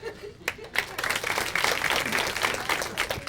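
Comedy club audience breaks into applause mixed with some laughter, a rising wash of clapping close by that follows a brief pause and holds steady.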